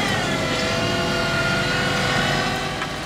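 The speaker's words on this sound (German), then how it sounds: "Das Gespann fährt zum Ende der Allee und die Fräse klappt hydraulisch aus." A tractor-drawn hydraulic milling cutter, powered by the tractor hydraulics, folds out at the end of a tree-lined lane during path repair; a steady, loud mechanical engine drone with a whirring hum continues throughout, with no talk.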